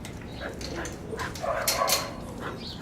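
A dog whines and whimpers with high, yipping cries over steady engine rumble, close by and moderately loud.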